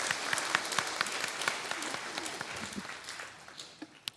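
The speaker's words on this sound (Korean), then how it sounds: "영광의 박수 올려드리겠습니다" A church congregation applauds during a Sunday worship service at a Seoul church, a dense, steady wash of clapping that slowly thins and fades out over about four seconds.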